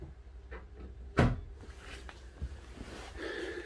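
Cabinet doors open in the cabin of a motorhome fitted with IKEA furniture: one sharp knock and clatter stands out, with a softer bump later against a quiet room hum.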